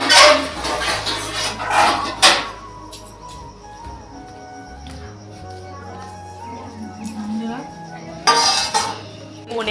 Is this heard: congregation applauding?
no